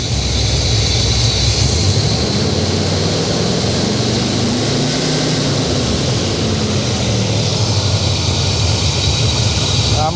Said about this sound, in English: Give it a little rev here.